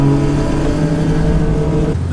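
A Toyota Supra held at redline while ice drifting in Sweden, its engine a loud, steady, unbroken high-revving drone close up that dips briefly near the end.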